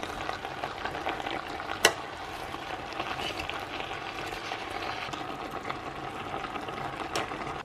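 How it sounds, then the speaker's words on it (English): Ground beef browns in a pan with onion, garlic and leek, giving a steady close sizzle with soft stirring scrapes and one sharp utensil clank early on. "So just cook the beef and keep turning so that it gets browned all over."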